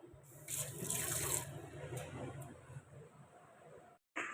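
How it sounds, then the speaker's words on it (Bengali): Dishes are washed at a sink under a running tap, a steady close hiss of flowing water with faint clinks, which briefly cuts out near the end. "চলো বাসন কটা ধুয়ে নিই।"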